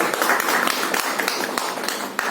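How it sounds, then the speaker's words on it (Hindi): A live audience claps steadily throughout at a Hindi motivational talk, dense continuous applause with no voices over it. "विकास जी के लिए तालियां जोर से।"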